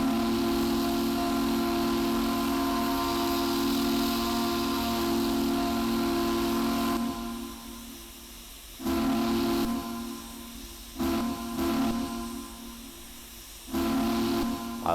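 The steam whistle of a Western Maryland I-2 2-10-0 Decapod locomotive in Train Simulator Classic gives a long, loud, steady blast, then several shorter toots separated by hissing steam.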